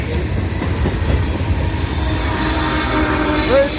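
A freight train rolls past close by with its DPU locomotive, its wheels squealing loudly above a constant heavy rumble and clatter of rail cars, the squeal rising toward the end.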